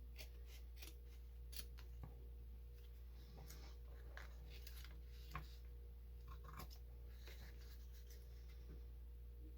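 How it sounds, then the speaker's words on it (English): Scissors snipping around the edge of paper for an envelope journal, a series of close, crisp cuts in irregular bursts over faint background hum, without talk. "Well, we're going to cut all around it,"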